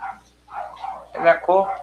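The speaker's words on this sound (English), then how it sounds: "Excuse my dogs" Several dogs bark indoors in short bursts, a few yips rising to louder, clustered barks near the end, with someone talking over them.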